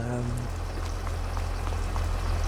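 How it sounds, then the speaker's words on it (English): Water pouring steadily into a sheep's trough in a farming video game, a continuous bubbling, splashing fill with a low hum running underneath throughout. "it's topping up the sheep's water"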